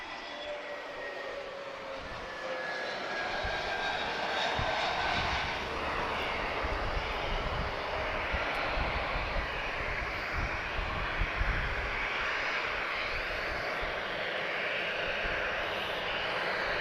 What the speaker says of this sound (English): Azores A321neo from Ponta Delgada.